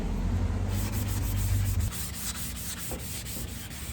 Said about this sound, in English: now I'm using a sanding sponge. This is a 220.